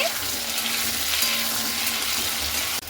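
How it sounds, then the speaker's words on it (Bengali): Taro and potato frying in a pan, a close, even sizzle with faint stirring and no break over the few seconds, ending in a brief knock. "কচু আর আলুটাও ভালো মতো করে ভেজে নিচ্ছি"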